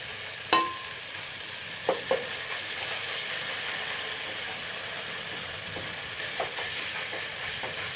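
Ginger garlic paste fries in a pan for veg bagara rice, giving a steady low sizzle with a few sharp clinks of a spoon against the pan, close and moderately quiet, with no talking.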